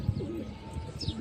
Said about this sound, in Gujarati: અને જો બધા કબૂતર ખાવા મળ્યા